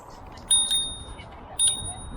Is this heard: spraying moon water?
no